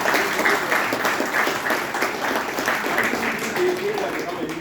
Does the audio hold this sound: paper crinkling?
no